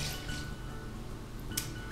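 Half a cup of water poured into chocolate chip oatmeal cookie batter makes a steady, soft liquid splash and trickle, close and continuous, with a faint clink near the end and no talking.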